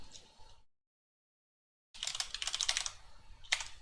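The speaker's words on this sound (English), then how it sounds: "Alright, let's try typing it." Rapid clicking keystrokes on a computer keyboard in bursts, a short patter of taps, a full second of silence, then a denser run of close, crisp typing.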